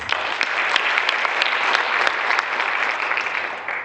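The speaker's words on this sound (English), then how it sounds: "Can we give them a round of applause?" A farewell gathering's audience applauds service workers, giving a short burst of dense clapping with a few distinct sharp claps standing out, lasting just a few seconds.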